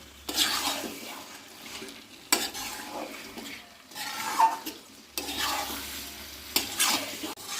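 Mutton pieces are sautéed in a pan, with loud rhythmic bursts of stirring and scraping in several sweeps over a continuous sizzling hiss, close up and with no voices.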